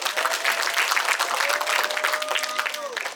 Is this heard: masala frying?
no